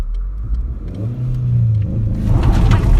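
A car driven by a learner, its engine droning low and then rising as the gas is pressed, with a steady, close revving build toward the end.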